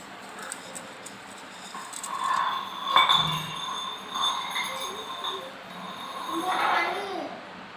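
Glasses clink lightly a few times in a home setting, small bright chinks under people talking nearby.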